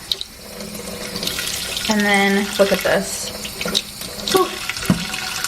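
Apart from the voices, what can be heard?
water tap running into pan of hot boiled eggs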